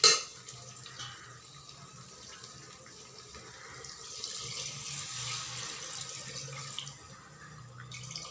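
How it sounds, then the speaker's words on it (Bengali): Water is poured into sautéed mutton in a handi, a close, gentle rushing and splashing that swells midway and then eases off; no one speaks. "এখন আমি জল দিয়ে দিব।"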